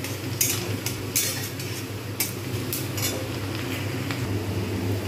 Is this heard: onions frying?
yes